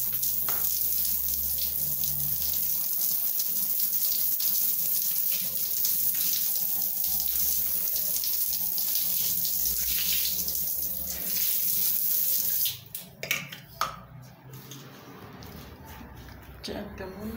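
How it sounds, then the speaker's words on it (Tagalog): Water gushes loudly and steadily from a tap while a bathroom is being cleaned, then cuts off near the end, leaving sloshing, drips and handling noises, with a person talking throughout. "Lagyan na natin ng tubig."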